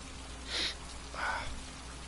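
Steady rain hisses faintly in the background of the video game Heavy Rain, with two brief brighter swishes standing out over the constant patter.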